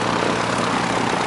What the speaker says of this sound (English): now that plane's about ready to take off.